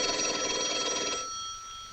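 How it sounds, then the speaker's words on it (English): An old telephone bell rings in a continuous shrill burst for about a second, then stops, and its ringing tone fades under a quiet room background in a 1952 film scene. "Your phone's ringing."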